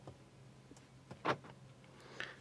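Mercedes-AMG C63 S E Performance doors locking, a quiet faint click followed by a sharper mechanical clunk of the lock actuators, then a softer chirp, heard close in a quiet cabin.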